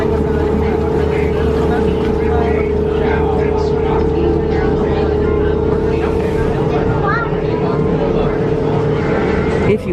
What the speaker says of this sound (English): We're going to go get on the boat